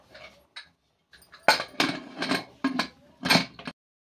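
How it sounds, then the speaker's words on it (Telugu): A metal lid is set onto a pot of chicken biryani in a home kitchen, producing several sharp clanks and clinks in quick succession, loud and close, with brief pauses between. "మూత పెట్టేద్దాం"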